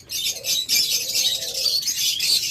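A pair of blue opaline budgerigars chatters and calls close by, giving a continuous, busy stream of high chirps and warbles.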